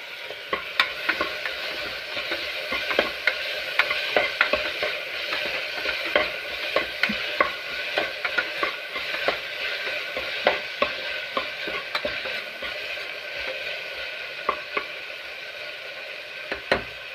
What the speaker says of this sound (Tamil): தக்காளி வெங்காயம் கொஞ்சம் வதங்கிடுச்சு.